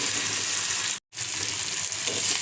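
Spice paste frying in oil in a small kadai, a steady bright sizzle and crackle throughout, close up, with a brief cut to silence partway through and no voices.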